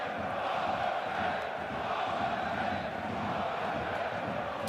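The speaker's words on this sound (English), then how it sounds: "Crowd trying to do their bit" Football stadium crowd at a VfL Bochum home match against VfB Stuttgart, a steady, fairly faint roar of voices and chanting spread across the stands without distinct peaks.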